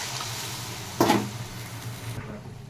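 Water poured into sizzling spice paste in a pan sets off a sudden sharp hiss over a low, steady frying crackle, then settles back to a quieter sizzle.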